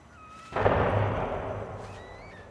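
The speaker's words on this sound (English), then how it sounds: "So we've got fireworks." A firework in No Man's Sky bursts with a sudden boom, followed by a long crackling, fizzing decay, with faint whistling tones before and after.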